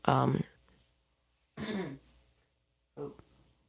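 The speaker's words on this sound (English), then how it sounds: "Clear my throat." Three separate throat-clearing bursts, each short and harsh, spaced with silent pauses between them, close to the microphone.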